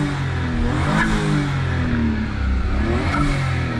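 A Suzuki Alto RSR engine revs loud and close, its pitch rising and falling through several throttle blips over a steady idle drone.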